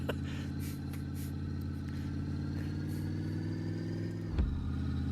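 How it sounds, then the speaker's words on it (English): In a garage-building video game, a Chevy engine fitted in a Mopar car idles with a steady, close mechanical drone and a brief dip near the end. "I put a Chevy engine in a Mopar."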